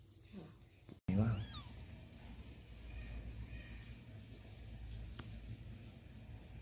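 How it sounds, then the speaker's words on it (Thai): Newborn kittens, four born at home in Yala, Thailand, give a brief burst of thin, high meows up close, while a person talks quietly and low background noise continues. "คือลูกแมวนะครับวันนี้แมวได้เกิดลูกที่บ้านนะฮะคลอดมา4ตัวนะครับ"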